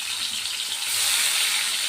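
Boal fish sizzling as they fry in hot oil in a wok, a steady close hiss of bubbling oil that swells slightly louder midway, with no voices.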